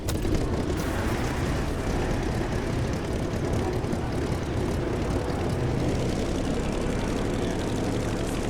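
An F4U Corsair propeller airplane in the video game The Crew Motorfest, a dense, steady engine roar held at even loudness from start to finish, with no talk.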